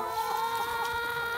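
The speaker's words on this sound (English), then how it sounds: "Hey chickens." Chickens clucking near a strawberry field, a steady run of soft overlapping clucks and calls, moderately close, with no talking.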